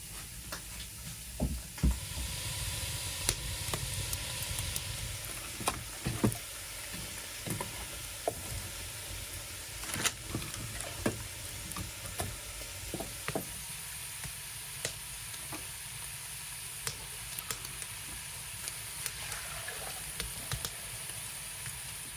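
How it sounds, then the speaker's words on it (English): Steady sizzling and crackling of shkvarki, small pieces of meat with fat, frying, with occasional sharp pops and spatters over a constant hiss, close up. "Meanwhile, I'm frying shkvarki, little pieces of meat with fat I mentioned"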